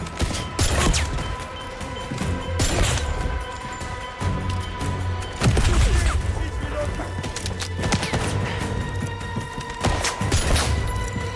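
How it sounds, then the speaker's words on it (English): Frag grenade blasts and gunfire in the action game 007 First Light, loud booming impacts and crashes recurring every second or two over a continuous rattle of shots and debris, with shouted voices mixed in. "Throwing frag grenade!"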